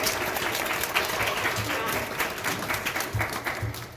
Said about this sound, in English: can we get a warm round of applause for Alicia?